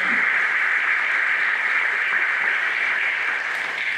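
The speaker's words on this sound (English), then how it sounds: "one more round of applause for all of the students involved in this award today" Continuous applause from an awards ceremony audience honoring students, a steady, even roar of clapping that holds at constant loudness throughout without pauses or talk.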